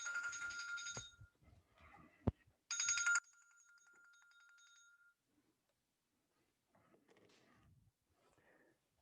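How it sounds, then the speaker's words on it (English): A telephone rings in two short bursts of bright, trilling tones, separated by a sharp click, during a quiet gentle yoga session. Soft background sounds and faint murmurs follow. "I didn't silence the phone."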